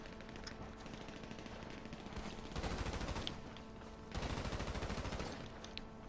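SMG gunfire in GTA 5 Online, with two sustained rapid bursts of automatic fire standing out over a steady background of distant shooting.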